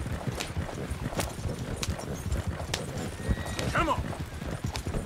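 Horse hooves clip-clop steadily beside a horse-drawn wagon in Red Dead Redemption 2, with a whinny rising near the end, over continuous game ambience.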